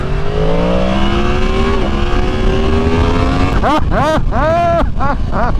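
A 2023 Yamaha MT-10 engine drones steadily, then revs hard through several sharp bursts of acceleration, loud and close throughout.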